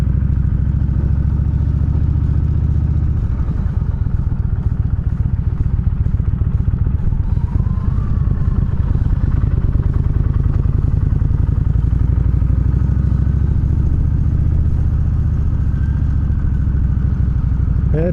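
A motorcycle rides slowly around a campground at Pier Natural Bridge County Park, with a loud, steady engine chug and low rumble close to the listener throughout and a slight rise in revs midway.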